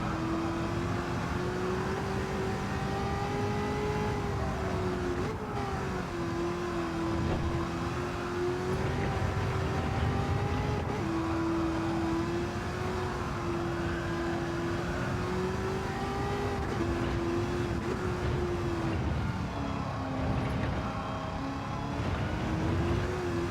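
A race car engine drives a circuit in Gran Turismo 7, a steady loud drone whose pitch swells and dips through gear changes and corners for the whole stretch, with no talking over it.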